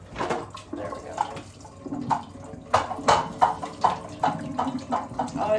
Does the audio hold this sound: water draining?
yes